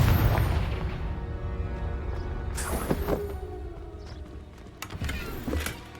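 Confringo blasting curse in a Hogwarts video game, a heavy booming explosion at the start that rolls and fades, followed by scattered lighter crackling impacts and bursts, no talking.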